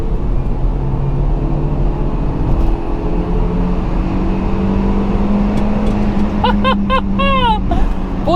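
A Skoda Octavia pulls hard in second gear on an open road after city traffic, its engine note droning steadily under heavy road and wind rumble, with a few chirping bird calls rising near the end.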